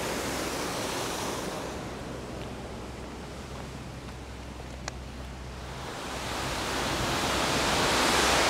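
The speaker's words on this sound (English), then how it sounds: "Here you have the waterfall, as you see." Waterfall at a chateau reflecting pool near a hydroelectric turbine construction, a steady broadband roar of falling water, loud and continuous, swelling slightly toward the end with no voices.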